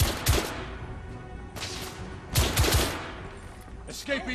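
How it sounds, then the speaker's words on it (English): Gunfire in The Order 1886: several bursts of shots crack out in clusters, sharp and loud, with rapid repeated reports and echoing tails between them. "And I can still hear shots."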